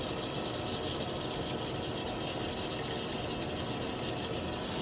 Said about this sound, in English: Every time you make a stroke, rinse the blade off.